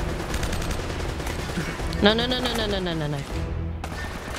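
Bursts of gunfire ring out in a firefight in Uncharted: Drake's Fortune, loud and continuous, while a voice briefly speaks over it.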